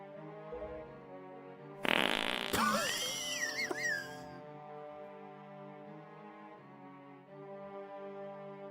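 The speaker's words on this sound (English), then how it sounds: "Are you asking if I recognize the sound of your fart?" A drawn-out fart sound from the Zelda: Wind Waker game, loud and alone, rising in a sharp burst then wobbling and fading over a sustained musical background.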